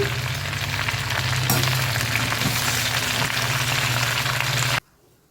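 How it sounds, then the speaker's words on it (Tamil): Curry leaves sauté in a generous pour of oil for a curry leaf powder, giving a loud, steady, close sizzle and crackle that runs unbroken, then cuts off abruptly near the end. "இந்த மாதிரி நல்லா எண்ணெயை ஊற்றி நல்லா வதக்கிட்டிங்கன்னா"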